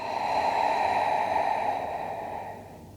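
A long, slow exhale during a prenatal yoga breathing exercise, a soft breathy rush that swells and then gradually fades, heard up close and alone.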